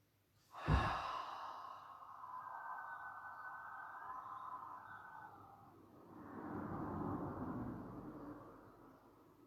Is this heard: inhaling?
yes